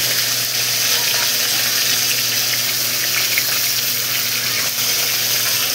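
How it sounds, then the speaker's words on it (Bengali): Fish heads frying in reused oil in a pan over low gas, a loud steady sizzle running throughout. "এখানে মাছের মাথাগুলো করকরে করে ভেজে নেওয়া হবে আর একবার।"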